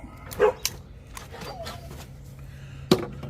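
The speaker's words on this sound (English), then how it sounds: "Have to excuse the neighbor's dog" A neighbor's dog barks a few times in the distance, with short sharp yips separated by quiet stretches over a low background hum.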